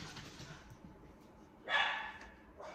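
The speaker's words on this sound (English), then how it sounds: "the dogs are barking" A short, faint bark or yelp from a dog some distance away, with quiet room noise around it.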